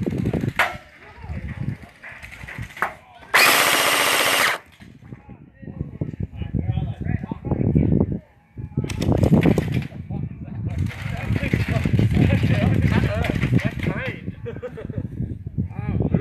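Gel blaster shots during a private night game at an outdoor field, a scatter of sharp snapping pops among rustling movement and wind, with players talking over much of it.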